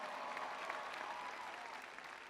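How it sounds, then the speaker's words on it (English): Large crowd at a campaign rally at UW-Madison applauding steadily, a dense even wash of clapping that sounds somewhat distant and fairly faint throughout. "So can everybody please give Katie an unbelievable round of applause for that great introduction."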